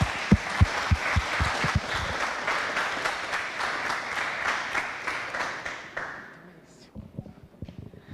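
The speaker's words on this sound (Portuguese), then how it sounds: "parabéns e palmas aos organizadores" An audience at the closing of a university sanitation and environment week applauds the organizers, dense clapping with a few loud hand claps up close that fades out after about six seconds, leaving scattered claps and some talk.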